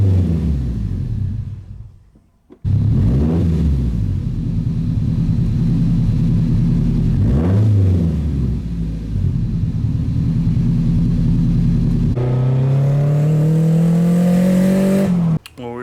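Nissan Silvia S14 driving close by, its engine droning and rising through repeated revs and gear changes, briefly dropping near silent before picking back up, with a harsher revving surge toward the end.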